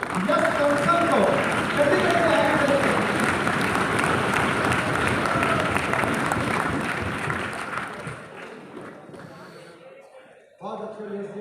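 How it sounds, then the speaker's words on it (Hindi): Loud applause from a large audience at a national poetry gathering in a hall, welcoming a poet to the stage. It sounds dense and sustained, fades toward the end, and a voice then starts speaking. "तो वो है तो एक बार जोरदार तालियों से बुलाएंगे यश कौशल को।"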